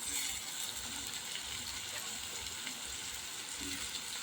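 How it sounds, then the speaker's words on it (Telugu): Onions and tomato pieces fry in a pan with a quiet, continuous sizzle and soft bubbling, heard close but faint and steady throughout. "ఈ ఎర్రగడ్డలు ఇలా మగ్గుతున్నప్పుడు ఇందులో ఇప్పుడే టమాటా ముక్కలు కూడా వేసేసుకుందాము"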